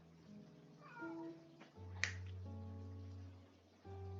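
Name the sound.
pet cat meowing and going crazy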